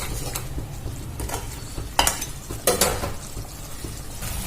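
Masala is fried with a little water in a pan for a doi potol curry, a faint background sizzle with a few sharp spatula scrapes and clinks against the pan.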